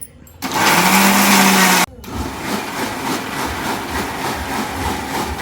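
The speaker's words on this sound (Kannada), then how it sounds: "ಈ ಖಾರ ನುಣ್ಣಗಾತು ಅನ್ಬೇಕಾದ್ರೆ ಉಪ್ಪನ್ನು ಕೂಡ ಸೇರಿಸಿ ರುಬ್ಬೋದು" A mixer grinder churns tamarind pickle chili paste with salt in a single loud, steady whirring burst of about a second and a half that cuts off abruptly, followed by quieter kitchen background with a voice talking.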